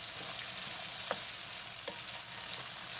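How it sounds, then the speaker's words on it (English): Potatoes and bacon fry in a pan for German potato salad, giving a fairly faint, steady sizzling hiss with a couple of brief scrapes from stirring, no voices. "I'm going to get it all stirred up, and the potatoes are starting to brown up on me"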